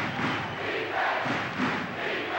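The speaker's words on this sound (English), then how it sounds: "the crowd is really roaring now" A loud, sustained roar from the crowd at a Duke versus North Carolina college basketball game, with seven and a half minutes left, fills the arena as one dense wash of noise with no clear breaks.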